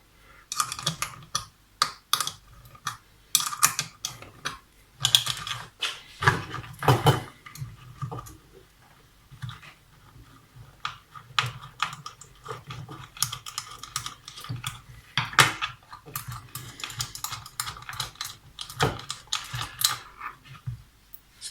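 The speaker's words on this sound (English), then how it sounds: "Undo the screws on the sides of the indicator. They're quite long and you'll need to unscrew them a fair way before they'll come out." Long screws being backed out of a motorcycle indicator on a 2017 Honda CBR1000RR, giving scattered small metallic ticks and clicks with quiet gaps, close and fairly faint, no talking.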